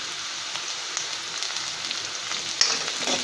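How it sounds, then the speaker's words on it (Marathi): Garlic cloves and browned onion sauté in a pan, a steady close sizzle with light crackle and a couple of stirring scrapes near the end. "आणि त्या आता व्यवस्थित आपल्याला परतून घ्यायच्या आहेत"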